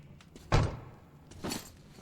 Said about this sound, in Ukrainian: Двері посуваються!